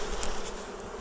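Honeybees shaken off a hive frame in one short, sharp shake give a brief, close burst of dense buzzing.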